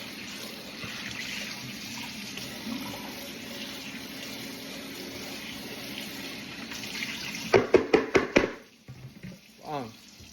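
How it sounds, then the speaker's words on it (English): Hot water runs steadily from a kitchen tap for several seconds, then louder splashing and rinsing bursts near the end. "Rinse it out with some water, some hot water, some steaming hot water"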